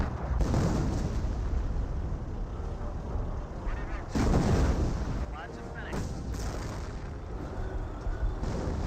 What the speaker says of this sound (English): Now it's time to barrage the Hummel's last known location.